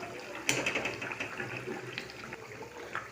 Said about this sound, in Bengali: মশলা খুব ভালোভাবে কষানো হয়ে গেছে, দিয়ে দেবো পরিমাণ মতো জল।